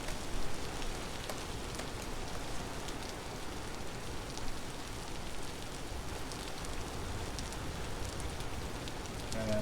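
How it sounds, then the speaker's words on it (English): Steady rain falls in the video game Vintage Story, a dense even hiss of drops hitting surfaces that runs unbroken throughout at moderate loudness with no voices. "I just wish it wasn't raining"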